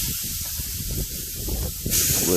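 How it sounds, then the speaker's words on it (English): Ribeye steaks sizzle on a hot Masterbuilt 800 Gravity Series griddle with a steady frying hiss, crackling close by, then a brighter burst of hissing near the end. "you listen to that there sizzle"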